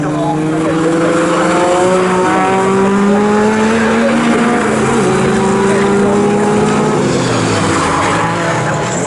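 Saloon race cars, including rear-drive and Zakspeed Ford Escorts, roar past at Snetterton. Loud, continuous engine noise rises and falls as the cars shift gears, with a voice faintly beneath.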